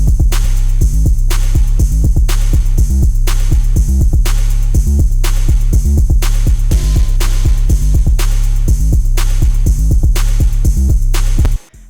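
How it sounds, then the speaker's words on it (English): A punchy snare with ping-pong delay, programmed in FL Studio for a rave-style trap beat, cracks at a steady, evenly spaced rhythm over a loud, continuous beat with heavy bass for the whole stretch. "Lastly, I put down the snare, which is going to sound like this."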